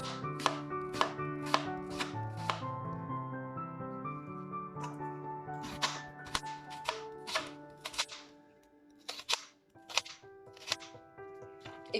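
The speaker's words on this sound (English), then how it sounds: "So now you have your half and you are going to chop thin slices." A knife chops half an onion into thin slices on a board: quick bursts of sharp, close taps, steady at first, then spaced into shorter clusters with brief pauses, alone without talk.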